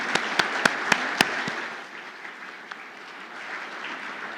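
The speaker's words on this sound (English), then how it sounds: "But could we have another round of applause for our fabulous keynotes, Steve and Sascha, please?" Audience applause for keynote speakers at a conference session: several sharp, loud claps near the start give way to softer, steady clapping from the room.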